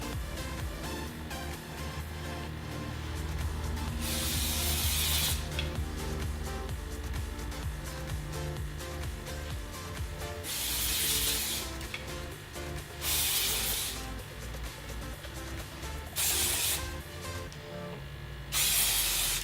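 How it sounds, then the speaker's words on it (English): Clarity Professional hairspray is sprayed in short bursts of bright aerosol hiss, about five spaced through the stretch, while hair is styled into beach waves. A steady background sound continues throughout. "what hairspray are you using?"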